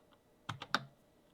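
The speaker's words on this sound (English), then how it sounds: "hit Control-C on my keyboard" A computer keyboard is tapped in a few quick, close keystrokes, three crisp clicks clustered together in a quiet room, with no voices.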